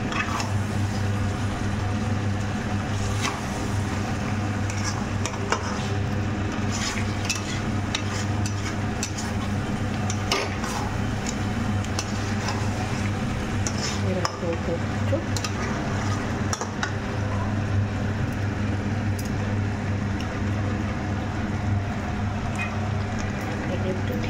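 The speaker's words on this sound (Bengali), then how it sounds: "সেটা এর মধ্যে দিয়ে দিয়েছি এবং আস্তে ধীরে ধীরে নাড়তে হবে।" Gondhoraj chicken stirred slowly in a pan, a soft steady scraping and gentle sizzle running continuously at moderate volume with no pauses, a low steady hum beneath it.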